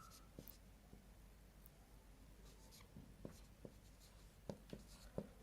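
Pen or pencil scratching out Arabic letters by hand, a low rustling scrape broken by a few soft taps of the nib against paper, faint and close with no talking.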